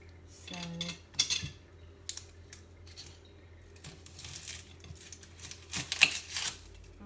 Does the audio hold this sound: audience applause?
no